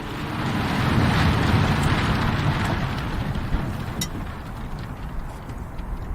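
A motorboat engine rumbles steadily as the boat moves through a reservoir covered in floating black shade balls, with wind buffeting the microphone and splashing; loud and close, easing slightly toward the end.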